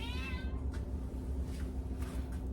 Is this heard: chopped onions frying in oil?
no